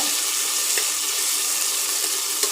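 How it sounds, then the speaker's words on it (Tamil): Manathakkali berries mashed with a ladle in hot oil in a pan, giving a steady soft sizzle and frying hiss with faint scraping throughout, no talk. "ஏதாவது ஒரு கரண்டியால் இந்த காயெல்லாம் இப்படி லேசாக மசிச்சு விட்டுக்குங்க"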